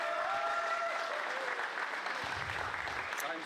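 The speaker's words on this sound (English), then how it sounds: "And also applause for runner-up Arsenal Sebastiano." At a European Championships 2024 9-ball under-23 award moment, a hall audience claps steadily and evenly, a moderate, continuous patter with a fading voice briefly heard at the start.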